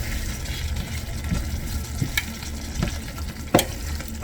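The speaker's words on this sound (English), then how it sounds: "Mix it up nicely now." Chicken curry, sauteed and splashed with water, frying in a pan under steady stirring, with several short spatula scrapes and knocks cutting through a continuous low sizzle, one louder clank near the end.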